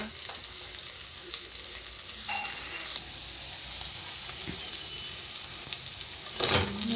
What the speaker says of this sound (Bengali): আলুগুলো একটু নেড়ে একটু রান্না হতে দেবো